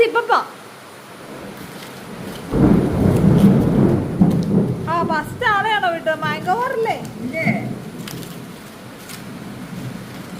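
Heavy rain pours with a deep rumble of thunder, while voices talk and someone speaks in a high, sing-song tone over the downpour.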